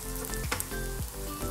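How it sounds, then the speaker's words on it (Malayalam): Curry leaves fry in hot coconut oil for an Onam koottucurry, giving a steady close sizzle broken by sharp crackling pops and a few bursts of spattering. "ഒരു തണ്ട് കറിവേപ്പില ഇട്ട് കൊടുക്കുക. ഇതും ഒന്ന് നമുക്ക് വറുത്തെടുക്കണം."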